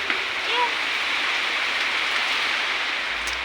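Heavy rain pours steadily in a continuous broadband hiss, loud and unbroken, while a few faint voices and brief tones sit underneath.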